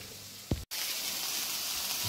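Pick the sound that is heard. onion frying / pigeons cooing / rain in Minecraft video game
onion frying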